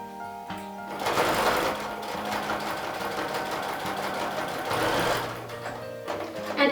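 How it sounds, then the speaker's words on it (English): A sewing machine runs steadily, top-stitching around the edge of a fabric baby drool bib, its motor whirring close and loud with a rapid needle rhythm throughout. "I'm just going to stitch, making sure those fabric edges are folded in toward each other."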